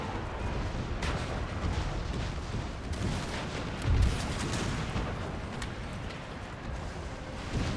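Video game artillery fire in a battle with Dutch forces, a dense, continuous rumble of distant gunfire and shelling with one heavier boom about midway, steady and loud throughout, with no speech.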